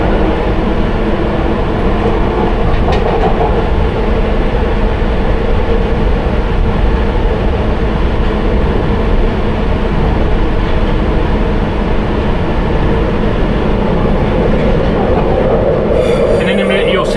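A London Underground Piccadilly Line train running on a twisty section near Covent Garden at about 20 mph, heard from the rear cab: a steady loud rumble with rattling wheels throughout, and a brief squeal near the end.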